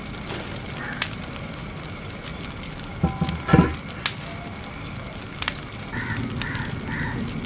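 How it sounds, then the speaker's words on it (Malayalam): A wood fire burns in a traditional firewood stove heated for frying chicken, a steady close hiss broken by scattered sharp crackles and a small cluster of pops. "ഇപ്പോൾ നാടൻ രീതിയിൽ കോഴിയിറച്ചി വറുത്തെടുക്കുന്നതിന് വേണ്ടിയിട്ട് ഞാൻ വിറകടുപ്പ് കത്തിക്കുകയാണ്."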